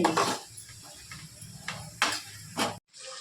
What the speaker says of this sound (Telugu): మధ్య మధ్యలో ఇలా కలుపుతూ ఉండాలి